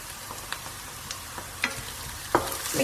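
Ginger and garlic sizzle in a pan with softened, translucent onions for a chicken masala fry, broken by a few sharp scraping stirs of a spoon against the pan over a steady, soft hiss.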